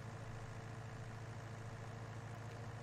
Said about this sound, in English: we're at full RPM with the mower running